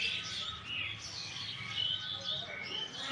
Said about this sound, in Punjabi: ਉਹ ਉਧਰ ਚਿੜੀਆਂ ਬਹੁਤ ਚੂੰ ਚੂੰ ਕਰਦੇ ਆ ਬੜੀਆਂ ਚਹਿ ਚਹਿ ਕਰਦੀਆਂ